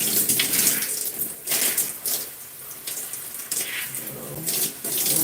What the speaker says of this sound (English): And rinsing out my hair.